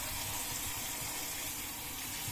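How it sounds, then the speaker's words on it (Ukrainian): Cold water runs steadily from a tap into a bowl, a constant close gushing hiss with no pauses. "І звичайну холодну воду відкриваю, щоб вони всі тут погрузилися."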